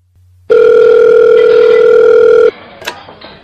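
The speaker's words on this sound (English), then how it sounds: "A telephone call." A single long, loud, steady telephone ringing tone sounds close by for about two seconds, then cuts off, leaving faint background noise and a brief click.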